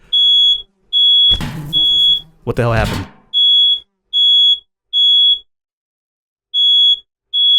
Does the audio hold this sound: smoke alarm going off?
yes